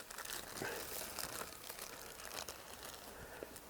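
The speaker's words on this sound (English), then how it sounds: "I just now need to gently unwrap this plastic" Plastic wrap being slowly peeled from a hawthorn air layer, giving a steady close crinkling and crackling with soft tearing rustles throughout, fairly quiet.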